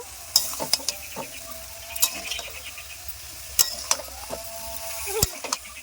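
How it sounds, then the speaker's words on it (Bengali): Mixed leafy greens and vegetables stir-fried with spices in a pan, a steady sizzle broken by repeated sharp scrapes and clicks of a spatula against the metal, close and fairly quiet with no talking. "শাকগুলোকেও আমি একইভাবে মশলার সঙ্গে সবজিগুলোর সঙ্গে কষে নেব"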